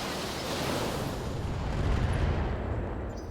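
A salvo of about forty missiles launches in the BattleTech game, a dense, steady roar of rocket fire with no voices over it.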